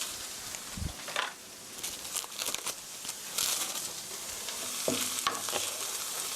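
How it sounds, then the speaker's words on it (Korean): Mapo tofu sauce ingredients are stir-fried in a pan. They sizzle steadily under repeated scraping and stirring from a utensil, with occasional clinks against the pan, heard close and at a moderate level. "살짝 볶아주시고요. 타기 전에"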